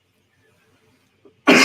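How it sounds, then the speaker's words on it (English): After near silence and a tiny click, a single sharp cough bursts out close and loud at the very end. "I promise I've been dealing with this cough."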